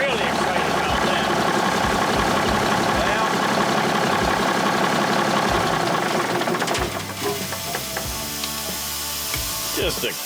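An idling 1964 Autocar truck leaks air, with a continuous broadband hiss over a loud, steady diesel rumble and knocking close by, and voices talking over it.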